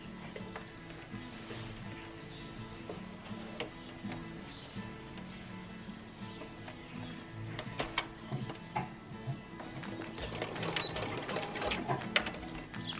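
Sewing machine with a walking foot quilting a zigzag pattern corner to corner across a basted quilt, a steady medium-speed mechanical stitching rattle with intermittent louder clicks, close and continuous with no talk.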